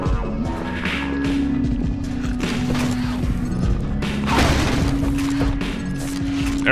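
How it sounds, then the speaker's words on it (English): Explosions go off during Half-Life 2 Episode 2 gameplay, with booming crashes and rattling debris layered over a sustained game tone and a busy mix of combat effects. "I love the secondary explosion that basically happens"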